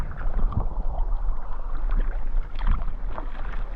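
Kayak paddling around the Isle of Wight at night under a full moon, with steady water splashing and rhythmic paddle strokes over a constant wind rumble, no talking.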